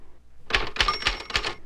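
Typewriter keys clack during a typing lesson, four distinct crisp strikes in quick succession after a brief quiet start, close and clear.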